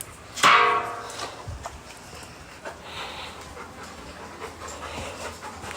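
A dog pants in quick, breathy bursts close by, with a louder whimpering outburst near the start and softer, irregular panting and shuffling afterward.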